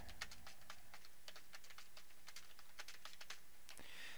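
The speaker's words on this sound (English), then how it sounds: "I'm going to type my string in." A string is typed on a computer keyboard, with quick irregular key clicks pattering close and fairly soft, alone over a faint room hush.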